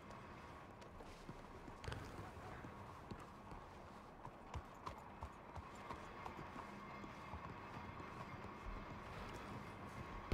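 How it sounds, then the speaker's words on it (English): Horse hooves clip-clop on a city street in Saint Denis, a video game setting, a steady run of soft, even footfalls over low ambient background with no talk. "Let me get my horse out of the street."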